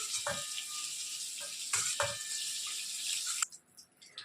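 Pointed gourd pieces fry in hot oil with a steady close sizzle, broken by a few brief clinks and stirring knocks, until the sizzling suddenly drops away near the end.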